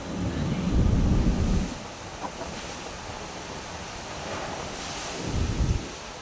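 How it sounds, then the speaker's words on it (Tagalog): Strong typhoon wind in Manila roars and buffets the microphone in heavy bursts, with a constant rushing storm noise throughout. "Lakas ng hangin, mga boss"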